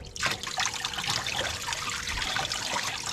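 Water trickles and splashes steadily from a garden hose during winterizing of a Moomba wake boat's Indmar engine, close by, with a continuous bubbling dribble and no voices.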